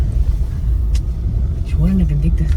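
Car accelerating during a driving lesson, heard from inside the cabin as a steady low engine and road rumble with a faint rising tone toward the end.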